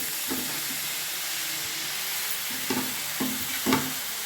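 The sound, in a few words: chopped pumpkin leaves being stirred and fried in a pan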